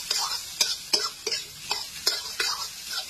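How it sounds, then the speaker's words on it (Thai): A metal spatula scrapes and clacks against an iron wok in quick, repeated strokes, about eight in three seconds, over a soft sizzle of frying rice. "นี่คือเสียงจากข้าวผัดที่โดนกระทะเหล็กครับ"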